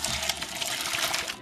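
Boiled potatoes being drained in a kitchen, with a brief continuous gush of water pouring and splashing, close and fairly loud.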